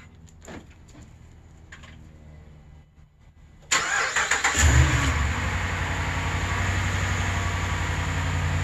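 A 2014 Ram 1500 pickup with the 5.7 Hemi V8, freshly repaired broken exhaust manifold bolts on both sides, cranks and fires up abruptly after quiet, then settles into a loud, steady idle close by.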